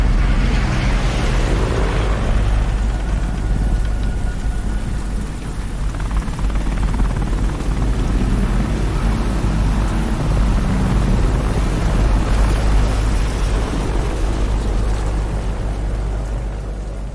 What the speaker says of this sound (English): a helicopter shining its spotlight onto the player, and the sound design here is honestly quite impressive